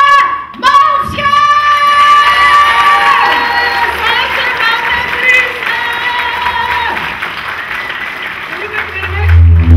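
A theatre audience at a Flemish comedy showcase gives loud, sustained applause and cheering for a woman comedian being introduced. A crowd roar runs under it, with shouts and whistles throughout.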